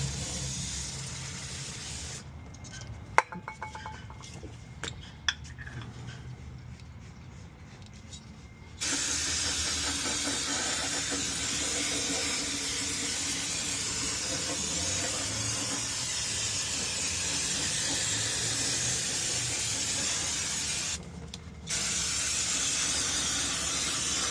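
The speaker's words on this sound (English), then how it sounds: "Get this all nice and clean. It's never too much brake cleaner." Aerosol brake cleaner sprayed onto the wheel hub of a Chevy Silverado with a custom Dana 60 axle during a wheel bearing replacement, heard as long, steady, close hissing bursts with short gaps between them.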